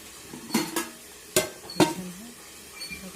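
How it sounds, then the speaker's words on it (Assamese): A utensil knocks and scrapes inside a pot in a few sharp strokes, with a soft sizzle underneath. "তাৰপিছতে লৰচৰ কৰি দিলোঁ"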